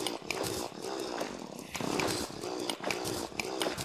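A drill chews through rock while mining in the video game Terraria, a loud, rough, buzzing whine that runs continuously with pulsing surges and brief dips.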